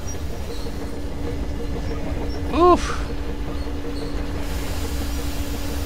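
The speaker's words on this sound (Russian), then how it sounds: "Смотрите, они поезд еще и на платформе разворачивают." A steam locomotive train in the video game Metro Exodus gives a steady low rumble with a constant droning hum throughout, and a voice briefly exclaims midway.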